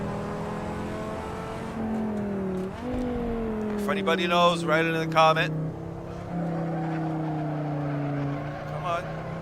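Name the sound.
V10 race car engine in video game Assetto Corsa mod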